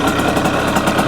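A brand new Yamaha YZ85 two-stroke dirt bike engine runs loud and close with no throttle, a steady buzzing idle with a slightly uneven pulse, consistent with a rich-running, plug-fouling condition.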